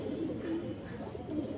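A pigeon coos softly in low, rolling, repeated murmurs, steady and fairly faint, with no voices.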